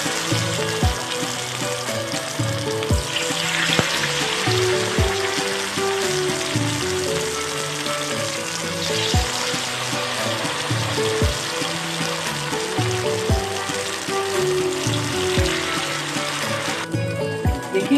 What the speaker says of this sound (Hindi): देखिए कितने अच्छे फ्राई हो रहे हैं पिनव्हील्स हमारे